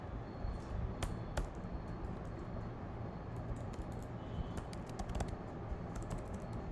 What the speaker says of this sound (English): and here I'm typing